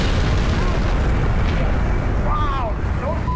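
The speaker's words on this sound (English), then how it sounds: "The explosion is massive." Massive blast at a rocket fuel plant, a loud, continuous roaring rumble with heavy low-end wind-like noise throughout, a voice speaking faintly over it.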